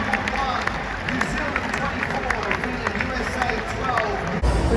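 Stadium crowd at the Olympic rugby sevens in Paris cheering and clapping for the USA team, a broad roar with scattered sharp claps, distant voices and babble mixed in, steady throughout before cutting off.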